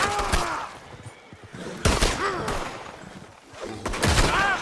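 Western-era gunshots in Red Dead Redemption 2, three loud sharp cracks spaced over a few seconds, each trailing a ringing echo, with voices shouting between them.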